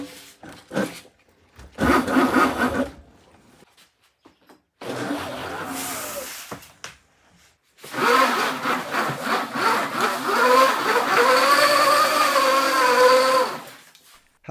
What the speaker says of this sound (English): My first impression of riding the Villain is that it's not afraid to give you all the power right away.